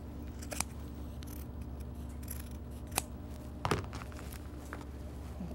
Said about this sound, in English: And then I'm gonna cut the bulk off.